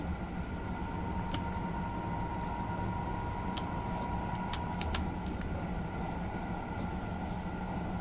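A simulated high-speed train runs on the Deluxe Edition route toward Strasbourg in Train Simulator 2022, a steady, continuous rumble and roar with an even hum and a few faint clicks, held constant throughout.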